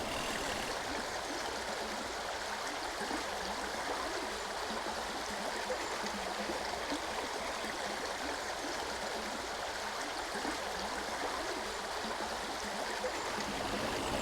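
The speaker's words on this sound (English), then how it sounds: "That's one of my favourite sounds in the world. The river, streams." A river stream in the Raisby Hill Grassland Nature Reserve, County Durham, flows in a steady, even rush of water that holds at a constant level throughout, close by and alone with no voices.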